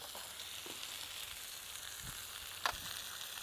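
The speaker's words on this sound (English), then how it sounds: "we get to do the second part of our cook, which is our stir-fry veggies" Stir-fry vegetables sizzle on a Mini Gather grill griddle, a steady quiet frying hiss with a few soft scraping stirs and one brief clatter, no talk.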